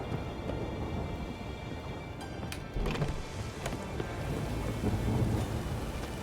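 Thunderstorm in the video game The Witcher 3, with steady rain and low rumbling thunder building to a heavier roll midway, no voices.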